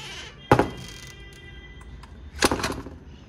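A house door is pushed shut, making two separate solid thunks about two seconds apart. Each is close and fairly loud, with quiet room noise between them.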